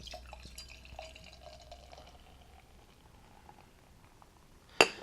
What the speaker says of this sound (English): So let's give it a proper pour and see what we got going on.